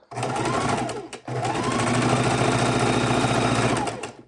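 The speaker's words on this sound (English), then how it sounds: "we're going to sew point to point" A sewing machine runs steadily and close up, stitching jelly roll quilt strips point to point. Its busy mechanical whir drops out for a moment, then carries on without a break.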